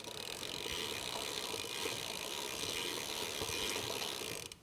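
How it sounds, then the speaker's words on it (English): A 15mm wrench tightening a pedal on a moped-style electric bike makes a close, quiet, continuous ratcheting whir over about five seconds and ends in a sharp click, with no speech. "I'll put the 15mm wrench on it, spin it around a little bit, and get it on tight there"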